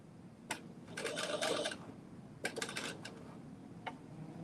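A home sewing machine runs a regular straight stitch in two short bursts of rapid mechanical clatter, with faint clicks between them, at a quiet level.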